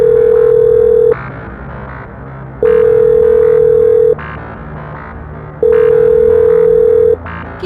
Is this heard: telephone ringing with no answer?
yes